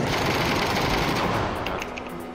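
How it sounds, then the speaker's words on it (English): Rapid automatic gunfire in PUBG rattles in a dense, continuous stream, loud and close at first, then easing slightly toward the end, with no voices over it. "so there's somebody shooting from this compound, right?"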